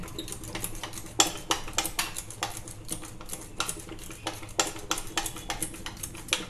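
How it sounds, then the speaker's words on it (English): A whisk beats semolina cake batter in a bowl, giving fast, irregular ticking and scraping strokes against the sides that stay close and steady throughout, with no voices. "For 2 to 3 minutes we have to whisk it like this."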